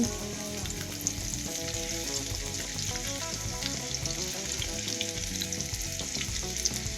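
Potato pieces fry in hot oil, a loud, dense, steady sizzle with crackling bubbles running unbroken throughout, no voices over it.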